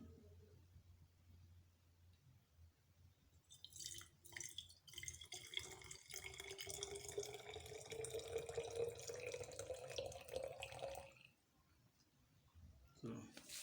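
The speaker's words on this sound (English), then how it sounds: "Adding water of 200 milligram" Water splashes and trickles as it is poured into a mushroom spawn mix, a steady pouring sound lasting several seconds over quiet background talk, then stopping abruptly.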